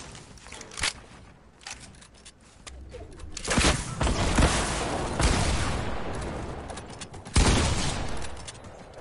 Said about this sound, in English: I'm gonna rocket this dude